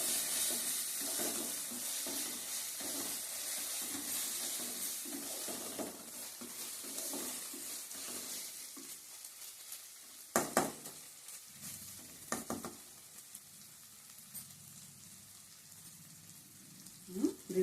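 A goat head curry fries in a pan with a steady, close hiss and sizzle. A few louder stirring clatters break in near the end.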